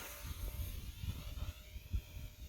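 An Eachine T-28 RC model trainer airplane flies in wind, its electric motor giving a faint, steady whine over rumbling gusts of wind noise, with no voices heard.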